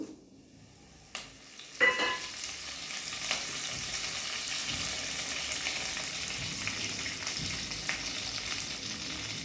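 Mustard seeds and curry leaves hit two tablespoons of hot oil in a frying pan, a sudden loud crackle followed by a steady close sizzle with scattered pops.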